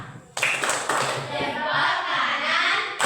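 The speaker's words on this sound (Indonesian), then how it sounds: "Beri dulu tepuk salut untuk temannya" A group of people claps in applause, loud and sustained right after a quiet start, with voices mixed in under the clapping.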